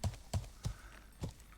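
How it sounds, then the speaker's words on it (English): A horse walks in the medieval survival game Life is Feudal, its hooves clip-clopping five times in a slow, even rhythm, faint and alone. "There's the plough we use in front of me, a horse."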